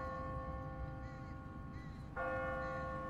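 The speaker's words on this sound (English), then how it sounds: "No one's ringing that bell. It's automatic. On a timer. What kind of church bell goes off at 20 past the hour?" An automatic church bell on a timer rings out at twenty past the hour, its sustained metallic tones humming steadily before a louder, fresh strike swells in near the end. The scene is outdoors, with no voices heard.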